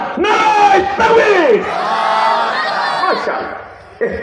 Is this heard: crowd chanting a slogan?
yes